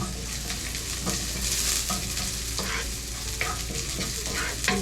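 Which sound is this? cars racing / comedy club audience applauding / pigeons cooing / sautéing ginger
sautéing ginger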